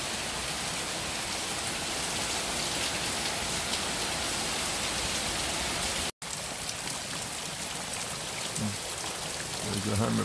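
Steady rain falling on dry ground, a broad continuous patter with a brief dropout midway and faint low sounds near the end.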